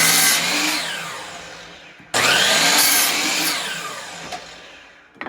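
A chop saw cutting wood: two loud whining cuts, each starting abruptly at full power and then winding down, followed by a few brief clunks at the end.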